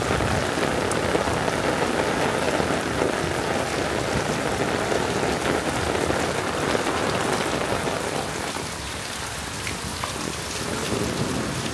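Heavy rain pounds a sloping roof and soaks a sitting area, a dense, continuous hiss of drops that holds steady and eases slightly toward the end, with no voices.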